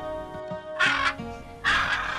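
Parrots in an animated fairy tale give two loud, harsh squawks close up, with quieter chirps and music in between.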